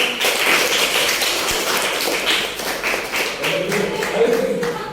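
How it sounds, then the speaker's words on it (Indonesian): Classroom clapping during a school lesson, a loud continuous rattle of many hands lasting the whole stretch, with a voice briefly audible beneath it. "Tepuk tangan dong buat saya."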